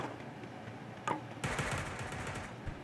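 Gunfire in the Sausage Man video game comes as a quick burst of shots followed by a longer stretch of rapid automatic fire, loud and close against a faint game background.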